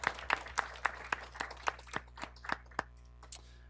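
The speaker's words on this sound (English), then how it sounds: "a little round of applause for Inka" A small round of applause at a school board meeting for a student, a sparse group of hands clapping in distinct, fairly even claps that thin out and stop after about three seconds.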